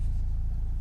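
Mercedes E220 diesel with 173,000 miles and an overdue service, engine turning over and running with a low, steady rumble, close and continuous for a brief moment.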